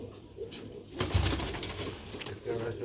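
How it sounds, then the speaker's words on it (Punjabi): Sialkoti pigeons, a White Tiger breed, cooing close by in soft low rolling calls, partly under a voice. "ਇਹ ਜੇ ਸਿਆਲਕੋਟੀ ਕਬੂਤਰ"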